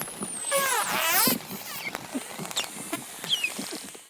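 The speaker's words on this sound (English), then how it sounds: "the first sound you heard was bottlenose dolphins, and I like to call this kind of the kissing sound." Bottlenose dolphins underwater, a dense run of rapid clicks, squeaks and rising and falling whistles crowding together, loudest early on then thinning into scattered chirps and pops.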